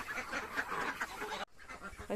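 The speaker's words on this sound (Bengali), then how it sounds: "হাঁস পাগল হয়ে গেছে কাউনের লাগা" Ducks quacking excitedly in a rural yard, eager for foxtail millet feed, a dense close chorus of overlapping nasal calls that breaks off briefly before resuming.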